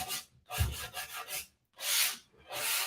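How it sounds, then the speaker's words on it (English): Coarse 100 grit sandpaper rubbed by hand over wood edges and corners, about five close, raspy back-and-forth strokes separated by brief pauses. "now I'm going to take it and just kind of hit the edges and the corners"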